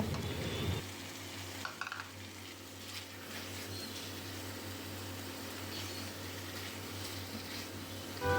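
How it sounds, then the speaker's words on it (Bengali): Chicken cooks with ground roasted spices in a pan, giving a faint steady sizzle and frying crackle with occasional stirring scrapes. "এবার গুঁড়ো করা ভাজা মশলাটা দিয়ে আরও কিছুক্ষণ ভালো করে কষিয়ে নেব।"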